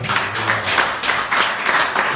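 Church congregation applauding in praise of Christ during a Spanish-language sermon, a steady wash of many hands clapping together that swells in pulses for about two seconds.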